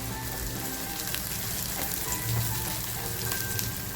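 Raw green peas fry in a pan for paneer bhurji, a steady dense sizzle and crackle that holds evenly throughout with no talk.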